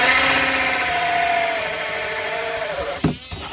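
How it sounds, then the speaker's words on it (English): A power drill whines steadily as it bores a hole on an antique sailboat, loud and close, pitch sagging slightly under load before a few abrupt clunks at the end. "this drill's days are numbered"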